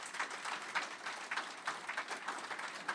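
Audience applause fills the room at a Google and Ohio Governor Mike DeWine announcement on data center investment, a steady wash of many hands clapping at moderate distance with no voices over it.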